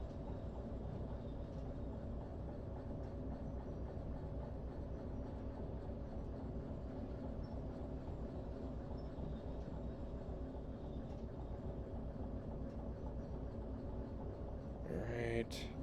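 A moving train in the VR game Derail Valley rumbles with a steady, loud, dense roll and clatter that continues throughout, with a brief sharper clatter near the end.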